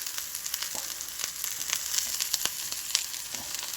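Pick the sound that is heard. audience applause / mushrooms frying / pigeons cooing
mushrooms frying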